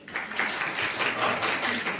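Applause in a classroom during an antakshari quiz, a dense, steady crackle of many hands clapping together, fairly near and sustained for the whole moment.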